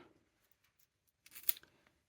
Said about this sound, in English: score the back of this paper